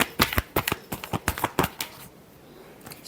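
Tarot cards riffle-shuffled in quick, close bursts of crisp flutters and slaps for about two seconds, then a quiet pause with faint room noise.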